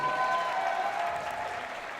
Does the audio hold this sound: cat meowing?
no